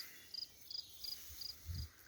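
Grasshoppers and crickets in tall Picardy grassland in France chirp in faint, evenly spaced pulsing bursts, about five quick trills in two seconds, with no voices.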